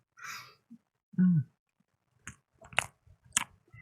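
Close, wet mouth sounds of someone chewing food with the mouth open, coming in a few short squishy bursts and clicks separated by silence.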